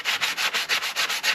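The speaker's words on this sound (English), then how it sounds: "we'll go around with a bit of an emery pad just to make it look a little bit nicer" An emery pad is rubbed back and forth over the chassis of a 1985 Dutton Melos, giving a steady rhythmic scrape of about eight strokes in under two seconds. The rasp is close and clear, with no voices.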